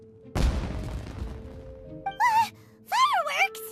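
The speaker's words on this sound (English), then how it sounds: "It sounded like fireworks." Fireworks go off in the Genshin Impact video game: one loud, deep boom with a crackling tail, followed by several rising whistling streaks near the end.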